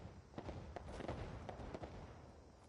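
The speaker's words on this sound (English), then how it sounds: "It becomes an actual mortar launcher." A mortar launcher in Fallout 76 fires off a string of muffled thumps and booms at irregular intervals, somewhat distant, over a low rumbling background.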